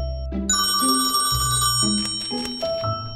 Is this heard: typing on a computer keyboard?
no